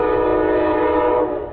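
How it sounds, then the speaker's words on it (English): A train passes at close range with its horn blaring, a loud, sustained tonal blast over the rumble of rolling railcars that eases slightly at the end. "I fucking hate these trains, bro."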